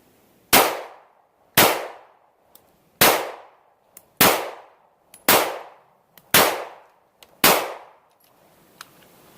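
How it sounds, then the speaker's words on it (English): A Walther PPS M2 pistol fires slow, evenly spaced shots outdoors. There are seven sharp, loud reports, each roughly a second apart and each trailing off with a short echo, and faint clicks fall between them. "Now we're gonna go for slow fire headshots."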